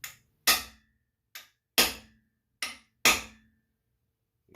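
A socket tapped down onto a freeze plug in a 7MGTE engine block, six sharp metallic knocks spaced irregularly, each with a quick ringing decay, close and clear against silence.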